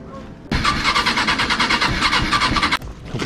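An engine cranks and catches, running with a rough, pulsing rhythm for about two seconds before cutting off abruptly; loud and close.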